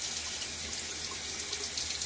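Steady running water from a tap, as when rinsing a razor between shaving passes with a Gillette safety razor and Williams mug soap, a continuous close hiss with no pauses.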